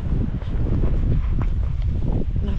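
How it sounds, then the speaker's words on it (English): Strong, blustery wind buffets the microphone outdoors on the coast near the Giant's Causeway in November, a steady low roar with gusty rustling throughout. "it's really windy again"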